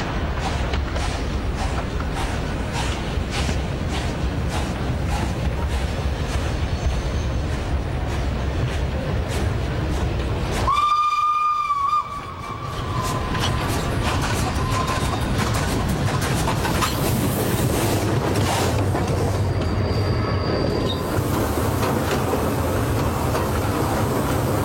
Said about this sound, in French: même si le souffle de l'échappement demeure feutré, mode compound oblige.